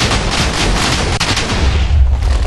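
Explosions and gunfire from the video game Warframe: a dense, continuous barrage of booms and blasts with heavy low rumble, loud and sustained throughout without talk.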